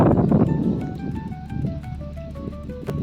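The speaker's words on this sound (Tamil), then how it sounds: "ஜில்லு ஜில்லுன்னு காற்றடிக்குது" Steady wind blows across the microphone, rushing and buffeting throughout, with faint tonal sounds in the background.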